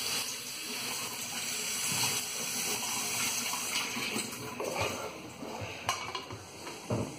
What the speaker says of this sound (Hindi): ठंडा पानी डालेंगे।